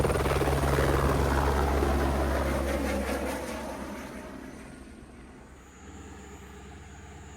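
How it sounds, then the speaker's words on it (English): A medevac helicopter's rotor thumps loudly overhead, then fades into the distance over several seconds. "the Medivac chopper was called in to rescue one of the team members."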